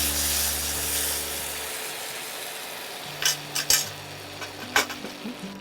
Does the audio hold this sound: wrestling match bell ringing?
no